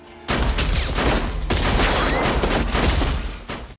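A burst of gunfire in a film scene, loud and dense, rapid overlapping shots forming a sustained fusillade for several seconds before cutting off abruptly.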